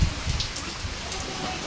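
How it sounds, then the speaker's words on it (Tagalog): Steady, dense heavy rain with strong wind hissing down, a constant broadband wash with no pauses, fairly close and loud throughout. "malakas ang ulan"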